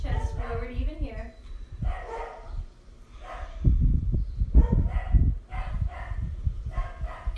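Several dogs bark and yip in loud bursts close by, with a whimper among them, while someone speaks over a yoga session and people walk past outside.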